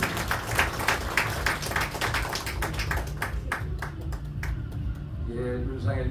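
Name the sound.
applause from audience at prayer meeting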